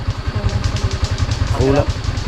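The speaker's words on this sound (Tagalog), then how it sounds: "Bagong motor," A new motorcycle's engine runs close by with a throbbing, even low pulse, and a person talks over it.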